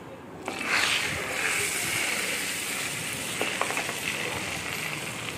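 Urad dal roasts and froths in hot oil in a pan for a radish pickle, making a loud, continuous close-up sizzle that swells at the start and stays steady with small crackles.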